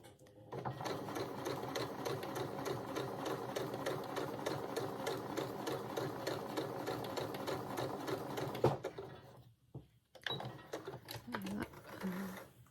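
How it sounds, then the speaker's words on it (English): A sewing machine runs long stitches along a dress seam in a fast, even rattle for about nine seconds. It then stops, and quiet handling noises and a brief voice follow. "you're just going to stitch along in long stitches along to where you've made the other notch"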